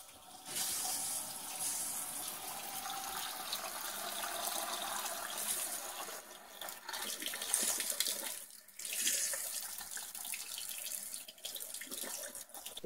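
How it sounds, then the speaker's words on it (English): Steady rush of water pouring from a tap supplied by a pressurized system with a propane on-demand water heater at a remote camp, continuous and close, with a brief dip in the flow partway through. "we'll have hot water, cold water, running water in the middle of nowhere"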